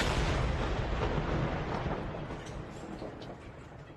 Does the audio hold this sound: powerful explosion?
yes